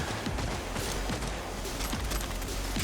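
Enemy gunfire crackles in dense, overlapping bursts during a firefight in the video game Cyberpunk 2077, with sharp repeated shots sounding steadily over a noisy background throughout.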